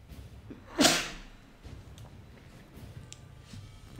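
A single sharp sneeze bursts out near the start, close and loud, then fades into quiet room tone with faint clicks from gameplay in Berserk and the Band of the Hawk.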